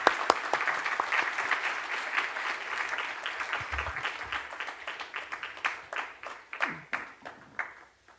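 A church congregation applauds for several seconds, a dense wash of many hands clapping that thins toward the end into scattered, separate claps.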